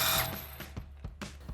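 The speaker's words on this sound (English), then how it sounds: "we can move on to our lower mount and remove this with a 17mm socket" A ratchet with a 17mm socket loosens the lower shock mount bolt on a 2024-2026 Toyota Tacoma, making several short, distinct clicking bursts at close range, with no talk over them.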